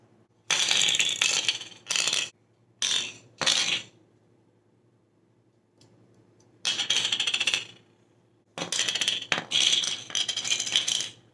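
Metal fanart pins rattling and clinking in loud bursts as they are shaken and sorted by hand, several short clusters separated by quiet pauses, close and alone.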